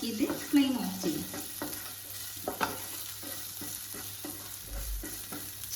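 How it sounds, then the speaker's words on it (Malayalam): Shrimp noodles get stirred in a pan with coconut oil: a soft sizzle under repeated scraping strokes of a spatula against the pan, fairly quiet and close, with a few low knocks. "നമുക്ക് കുറച്ച് വെളിച്ചെണ്ണ ഒഴിച്ച് കൊടുത്തിട്ട് ഒന്നും കൂടി ഒന്ന് ഇളക്കിയിട്ട് ഫ്ലെയിം ഓഫ് ചെയ്യും."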